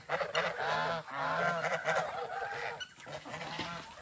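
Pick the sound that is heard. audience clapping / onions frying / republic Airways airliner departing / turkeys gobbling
turkeys gobbling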